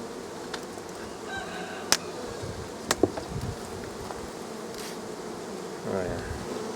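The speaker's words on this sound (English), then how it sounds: "Oh yeah, lots of bees in here." Bees in an opened beehive with a top box full of honey, buzzing as a dense, steady hum close by, with a few sharp clicks and knocks from handling the hive.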